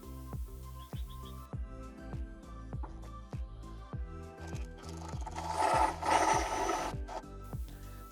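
A blade saws through a metal plate for a semi-hollow guitar's output jack in slow, repeated scraping strokes, a steady rhythmic rasp at close range that grows louder and harsher near the end, with no talk.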